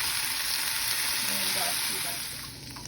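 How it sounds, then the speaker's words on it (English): Onions frying in a small amount of margarine in a pan give a steady, close, even sizzle that fades slightly toward the end, with no talking. "now I just put a small bit of margarine in this pan, and I'm going to add my onions"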